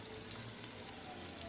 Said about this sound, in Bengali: এই যে পেঁয়াজ রসুন আমি ভালো করে ভেজে নিচ্ছি।